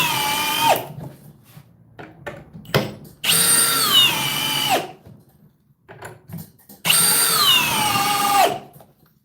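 A FLEX FX1271T hammer drill in drill mode on speed 2, with a 6 amp hour battery, drives 6-inch by 3/8 GRK screws: loud whirring bursts whose pitch sags under load, separated by brief quiet gaps and clicks.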